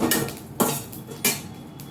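Water lily stems dry-roasted in a dry pan, a spatula scraping and clinking against the metal in three distinct, evenly spaced strokes, close up with no talking.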